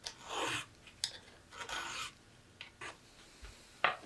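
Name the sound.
file strokes on a Traditions St. Louis Hawken rifle build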